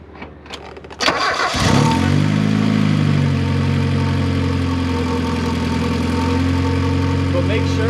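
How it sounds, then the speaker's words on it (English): A Mazda Miata fitted with a new Mishimoto radiator cranks briefly, fires up, flares and then settles into a steady, even idle that carries on close to the microphone. "you go ahead and you start the car, and you just let it idle."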